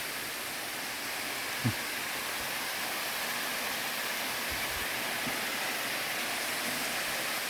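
Continuous broadband rushing of a waterfall, steady and enveloping, with a couple of faint low thumps and no voices.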